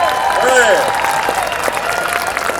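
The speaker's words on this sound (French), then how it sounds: "On applaudit tout le monde!" A crowd at an outdoor Fête nationale celebration in St-Lin-Laurentides, Quebec, claps loudly and steadily, with a shout and voices mixed into the applause.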